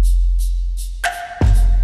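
Electronic drums built with a Logic drum synth kick play together, a low sustained kick tone under hi-hat ticks, then a sharp hit and a tonal sweep near the end, close and loud with no talking.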